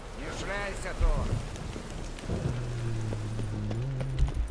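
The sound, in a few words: rain in a video game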